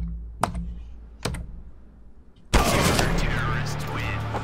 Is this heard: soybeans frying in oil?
no